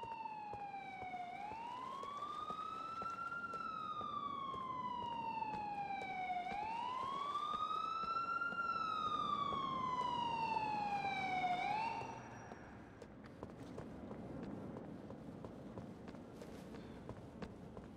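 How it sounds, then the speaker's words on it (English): A police car siren in Grand Theft Auto wails in slow rising and falling sweeps for about twelve seconds, loud and steady, then cuts off, leaving faint footsteps and ambient noise. "hear the police car. What now?"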